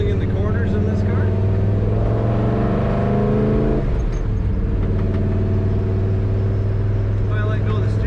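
Engine of a 1955 Chevrolet 210 Handyman Wagon while driving, a steady low rumbling drone heard from inside the car throughout, with a brief shift midway.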